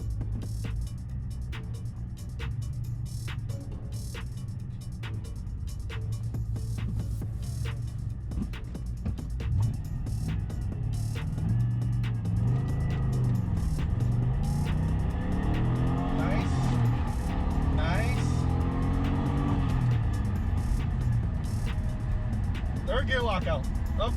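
A Pontiac GTO at a drag strip gives a loud, steady engine roar whose pitch rises and falls as it revs, with a voice talking over it near the start.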